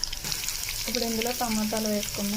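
Paneer, onions, tomatoes, bay leaf, cloves and ginger-garlic paste fry in a pan, with a steady sizzle close up and a short tonal whine above it.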